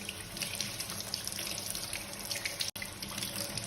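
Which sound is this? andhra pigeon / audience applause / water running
water running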